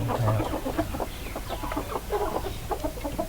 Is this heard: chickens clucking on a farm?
yes